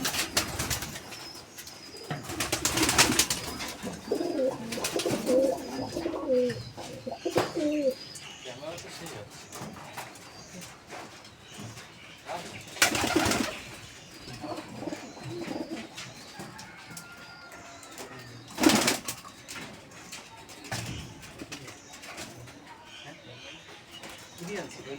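Flying pigeons of Girabaz and Madras breeds coo softly in a loft, with several loud bursts of wing flapping spread through the stretch. Faint voices are heard now and then.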